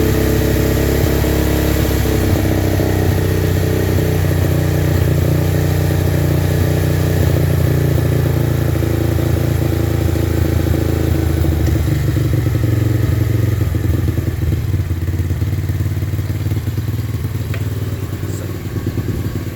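SSR125 pit bike engine running steadily after a Nibbi carburetor swap, a loud, close, rough idle with mechanical clatter holding constant throughout, no speech.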